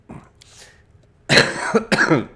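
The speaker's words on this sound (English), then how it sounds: "The cough caught up with me." A man coughs: a short cough at first, then after a pause a harsh burst of two or three loud coughs close to the microphone, with no talking.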